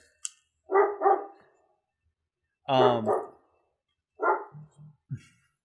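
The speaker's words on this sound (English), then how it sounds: "Please pardon my dog." A dog barks nearby in short bursts, a pair of sharp barks, then a single louder bark, then a few quick lower woofs and yips, with silence between them.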